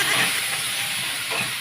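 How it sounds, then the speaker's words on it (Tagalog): Hot cooking oil spits and sizzles in a pan while onion and tomato are sautéed for salmon head sinigang with miso, a steady broadband hiss filling the short stretch with no talk over it. "Nagatasik yun ang mantika."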